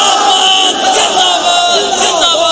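A large religious gathering chants slogans together, loud and continuous, the crowd's voices rising and falling in unison.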